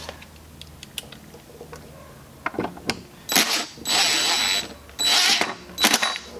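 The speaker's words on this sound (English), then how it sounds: "Obviously, minimize how much your drill impacts while it's doing this" Power drill driving screws during a subwoofer install in a Mazda Miata, preceded by light clicks and handling; three loud sustained whirring bursts, each about a second long, close by.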